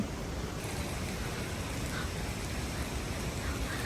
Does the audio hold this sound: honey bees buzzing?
no